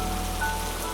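Cartoon rain falling suddenly: a steady, even hiss of rainfall for one brief second, with a faint thin tone and low hum underneath.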